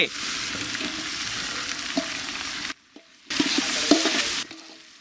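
Tomatoes dropped into hot oil for a yam gravy give a loud, steady frying sizzle with a few stirring clicks, broken by a brief near-silent gap before the sizzle resumes and then fades.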